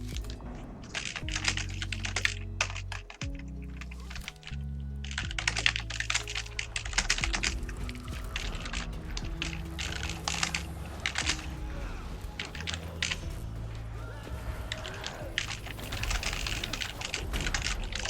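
Fast, continuous typing on a computer keyboard during a 2v2 online game tournament, clattering keys close up in dense bursts with brief pauses, no talking.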